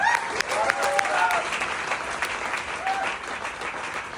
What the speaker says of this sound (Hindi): मैंने कहा जोरदार तालियां हो जाए यार, जोरदार।